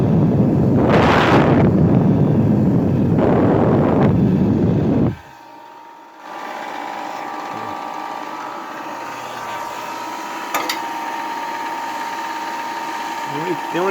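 A homemade electric blower running, a loud rushing roar of air with gusty surges, then it drops away to a steadier whir and steady hum.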